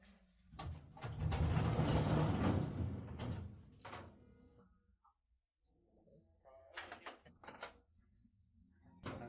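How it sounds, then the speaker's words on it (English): Plastic covers being pulled off an HP LaserJet Enterprise MFP M630 printer: a few sharp clicks, then a longer, louder scraping rattle, a quiet pause, and scattered light clicks and snaps close by. "We need to remove a few covers to access and remove the old fuser unit."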